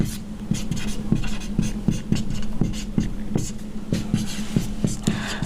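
Chalk or marker strokes on a classroom board make rhythmic, regular scratchy taps, close and steady, running beneath a voice.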